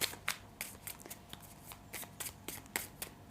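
Tarot cards being shuffled by hand in a series of quick, papery riffles and slaps, close and distinct with short pauses between bursts.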